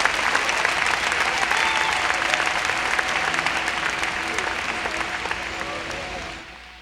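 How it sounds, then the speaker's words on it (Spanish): A church congregation claps loudly and continuously for several seconds in a full, sustained wave, with a faint voice underneath, before the applause fades out at the end. "Si va a darle ese aplauso, déselo fuerte al Señor."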